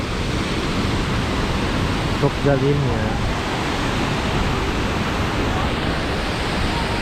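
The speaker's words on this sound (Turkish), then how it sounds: "şelalenin tam düştüğü nokta burası" Düden waterfall in Antalya roars at the point where the water crashes down, a loud, steady rush heard up close throughout, with a person speaking briefly over it.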